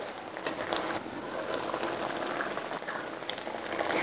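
Japanese pork curry with potatoes simmers in a pot, giving a continuous close bubbling and popping at an even level throughout.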